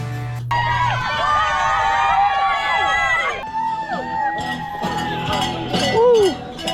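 Spectators line the 2023 Austin Marathon course, cheering runners on with shouts, whoops and clanging cowbells over a constant babble of nearby voices, with the noise swelling in short loud bursts.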